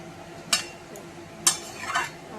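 A cauliflower and potato curry is stirred and turned over in a pan, giving a few brief scraping clinks of a spatula against the pan over a soft low simmer, close and fairly quiet.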